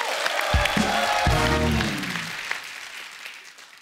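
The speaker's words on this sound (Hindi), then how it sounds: "उसके लिए जोरदार तालियां" A crowd at a live Hindi stage event breaks into applause, a dense wash of clapping lasting a few seconds under a brief deep vocal hum, then fading away.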